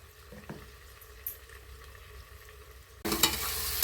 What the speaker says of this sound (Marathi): आता मसाला भाजत आलेला आहे, हा जरा ब्राऊन कलर होत आला आहे